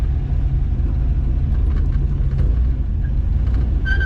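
A 1953 Buick, back on the road after more than 30 years abandoned, drives along with a steady, loud, low engine rumble and road roar that never lets up, with no talking.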